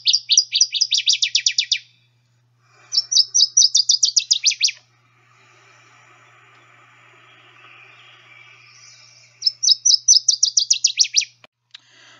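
Small brown warbler song in three distinct sections with a snappy quality: three bursts of rapid, high chirping trills separated by short pauses, clear and close over faint background hiss.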